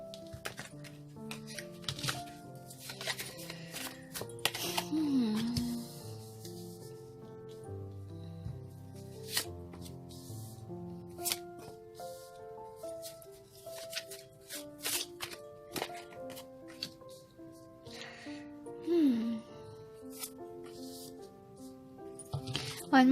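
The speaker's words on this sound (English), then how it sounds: "One more shuffle, they say." Tarot cards shuffled during a reading, with repeated papery riffles and taps scattered throughout under soft background music.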